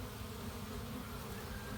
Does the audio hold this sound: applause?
no